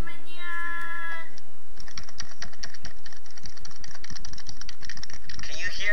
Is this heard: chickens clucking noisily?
no